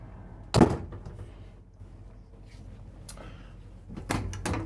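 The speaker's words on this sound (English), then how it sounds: "Pull this little lever right here, this door comes open" A sharp metallic clunk as the lever-operated latch of an emergency exit door on a 2023 Newmar Supreme Aire 4051 RV releases, a quieter knock, then a rattling thunk as the door swings open.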